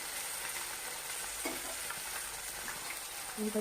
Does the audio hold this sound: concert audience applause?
no